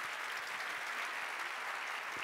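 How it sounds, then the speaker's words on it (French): Audience applause at a business awards evening honouring a heritage craft company, a steady, even wash of clapping that is fairly soft and continuous throughout, with no voices over it. "On peut l'applaudir quand même."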